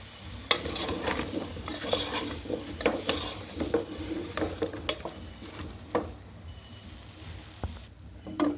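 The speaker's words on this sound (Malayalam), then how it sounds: "ഇനി ഇത് നന്നായിട്ട് മിക്സ് ചെയ്യാം." A masala dosa filling with chili and pepper powder is mixed in a pan, with repeated scraping and clinking stir strokes over a low steady sizzle, close and moderately loud, no speech.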